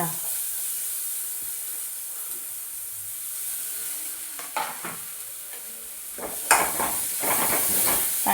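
Chopped cheera (amaranth) stems sizzling and hissing steadily in a frying pan, with stirring scrapes and louder bursts of frying toward the end, close and continuous.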